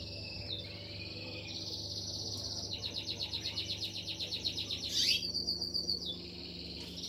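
Female canaries chirp and trill in rapid, repeated bursts, fairly close and clear over a low, steady background hum.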